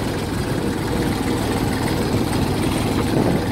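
Tractor hauling a trolley loaded with sugarcane in top gear toward a sugar mill, a steady, loud low engine drone running continuously without pause.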